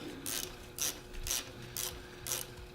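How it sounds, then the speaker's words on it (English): A socket wrench ratchets in five short bursts of rapid clicking, close and fairly quiet, while working on a fuel pressure regulator in a 1994 Jeep Grand Cherokee. "it allows the wrench to ratchet"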